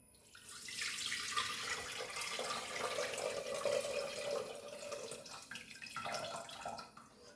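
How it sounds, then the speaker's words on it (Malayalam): Tamarind water, squeezed from soaked tamarind, splashes and trickles steadily into a clay pot for a Palakkad-style uppadam, a continuous nearby pouring sound with no talk. "പുളി നന്നായിട്ട് കലക്കിയിട്ട് പിഴിഞ്ഞ് അതിലേക്ക് ഒഴിക്കാം."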